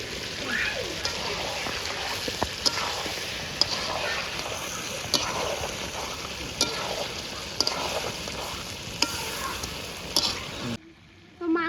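Fried potatoes going into a pan of sizzling meat, a steady loud frying hiss with occasional sharp clicks and spatters that cuts off abruptly near the end.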